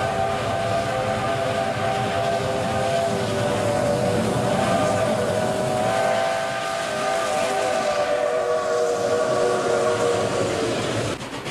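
Steam locomotive No. 261's whistle sounds long and sustained in winter snow, chords of tones held over the steady rumble and hiss of the passenger excursion train running close by.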